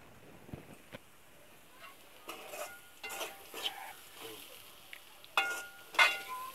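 Carrot poriyal being stirred in a pan on high heat, soft scattered scrapes and taps of a spoon against the pan over a faint sizzle, with a couple of sharper metallic knocks near the end.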